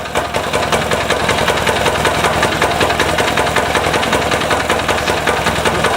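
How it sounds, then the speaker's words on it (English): A Yanmar L70-type 6 HP single-cylinder diesel clone engine idling after its first cold start, a loud, close, steady rapid knocking chug with an even rhythm and no talk. "just turned it down to idle."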